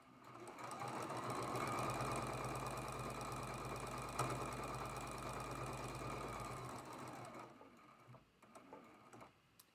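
A sewing machine stitches a traditional Double V quilt block seam in a fast, steady mechanical whir for several seconds, then slows and stops, leaving a few faint clicks.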